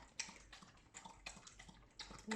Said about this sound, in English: Rex is drinking some water.